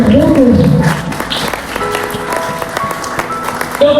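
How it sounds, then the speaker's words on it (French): A church congregation breaks into loud applause during a sermon, with a voice rising briefly over the clapping at the start before the steady clapping of the crowd carries on. "Acclame le Seigneur pour cela"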